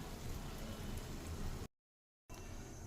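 Green chillies dipped in ground urad dal batter frying in hot oil for bajji give off a dense, steady sizzle, cut by a brief moment of silence before the hiss resumes.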